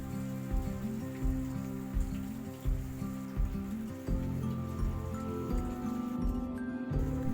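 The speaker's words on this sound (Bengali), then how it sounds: "কিছুক্ষণ নাড়াচাড়া করে পেঁয়াজগুলি দিয়ে দিলাম ভালোভাবে নাড়াচাড়া করার পর" Onions sizzle in hot oil in a pan and are stirred repeatedly, a close, steady frying hiss broken by rhythmic scraping strokes.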